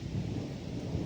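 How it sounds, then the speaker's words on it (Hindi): Steady rain with hailstones pelting down outdoors, a dense continuous low rumbling patter without clear individual impacts, fairly loud and constant with no voices. "यहाँ पे बारिश लग पड़ी और बारिश के साथ पड़ रहे हैं ओले हैं"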